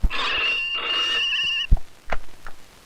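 A telephone rings in a steady, loud electronic trill for about a second and a half, followed by a few sharp knocks and a thump, in a comic police-officer scene.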